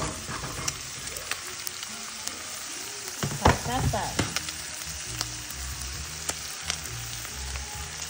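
Ground beef frying with potatoes and one onion in a pan for burritos, a steady close sizzle with scattered pops and occasional clinks and stirring scrapes throughout.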